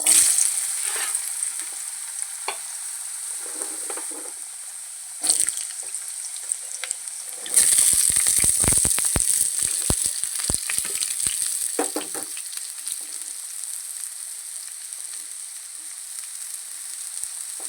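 Potatoes frying in hot oil in a pan for a fish recipe, giving a continuous bright sizzling hiss that surges loudly partway through with crackling and spattering, then settles into a steady fry, with no talking.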